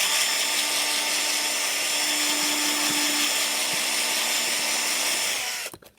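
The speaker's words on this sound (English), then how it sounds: "wiggle the drill a little bit back and forth to widen that hole" A power drill whirs steadily at close range for several seconds, widening a hole in the foot of a 3.75-inch action figure, then winds down and stops near the end.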